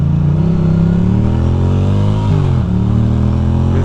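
A Ducati Hooligan motorcycle rumbles on bumpy Manhattan city streets, its close, steady engine note rising and falling through gentle throttle changes, with a brief dip and recovery near the end.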